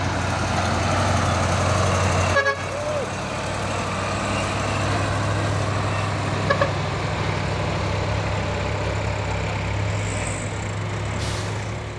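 A heavy truck engine idles nearby with a steady low rumble, joined by a brief clatter partway through and a couple of faint knocks, the drone holding even throughout with no voices.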